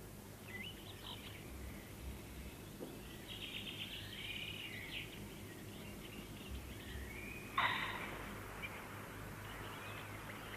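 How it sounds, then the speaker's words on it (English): Birds singing and chattering along a river, several faint chirps and short song phrases scattered over a soft steady background hiss, with one brighter call standing out near the end. "All along the river, you can hear the song and the chatter of the birds and the rustle of the leaves in the trees."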